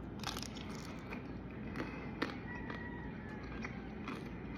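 Someone bites and chews crunchy Puerto Rican roasted pig (lechón) up close, giving irregular crisp crunches and cracks over a low background hum, with no talking.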